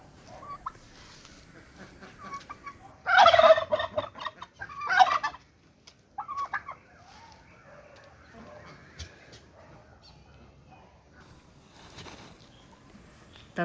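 Farm turkeys let out a few loud, rapid gobbling bursts in quick succession, then quieter clucks and calls over a calm background.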